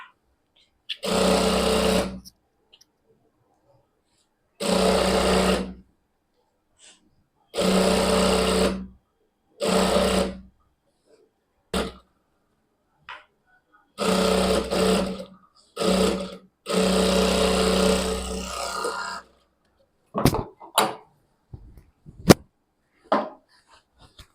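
A sewing machine stitches pleats into a lehenga, running in several loud bursts of a second or two each, separated by pauses, with shorter quick runs near the end.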